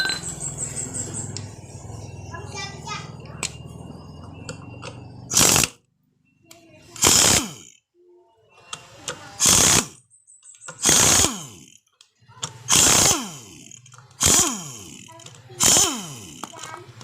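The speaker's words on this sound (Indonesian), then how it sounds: "untuk membukanya menggunakan impact ya, biar lebih mudah dan cepat" An impact wrench loosening the clutch cover bolts on a Yamaha Jupiter MX motorcycle: seven sharp, loud hammering bursts in a regular rhythm, each about a second long with short pauses between, following a stretch of quieter workshop sounds and speech.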